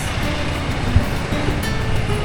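A car drives through a flooded street on calle 28 in Barquisimeto, Venezuela, after a morning downpour, its tyres throwing up a continuous close wash of water over a low engine rumble.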